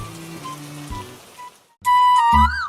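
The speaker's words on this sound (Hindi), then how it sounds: "बच्चे बहुत खुशी खुशी से बरसात का मजा लिया" Cartoon rain falls as a steady soft patter for a couple of seconds before music takes over.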